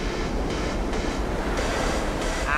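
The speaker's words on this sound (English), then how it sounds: "We got a big looking wave, really, really solid." Big ocean wave breaking at Nazaré during a surfing event, a constant heavy roar of whitewater and surf with periodic surges, loud and enveloping, with no voices.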